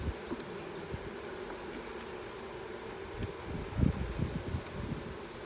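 Honeybees in a queenless, drone-laying hive give a faint, steady low buzz under light outdoor rustling, with a few soft thuds and no voices.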